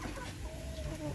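Hens in a Filipino flock fed a corn grits mix make soft, low clucking calls, a short close murmur over a steady farmyard background, with no voices.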